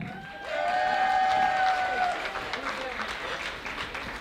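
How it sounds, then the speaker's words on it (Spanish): Audience applause at a quinceañera party, a crowd clapping steadily and filling the room, with a held musical tone and voices blending in beneath the clapping. "A continuación, un fuerte aplauso ahí para Carpa."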